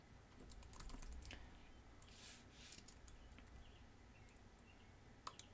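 Faint computer keyboard typing comes in quick bursts of light clicks, with short pauses and one sharper tap near the end.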